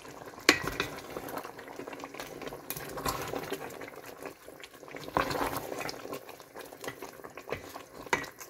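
Chopped eggplants and shallots stirred in a hot cooking pan, a steady close sizzle with a spoon scraping and clinking against the pan throughout, no talking.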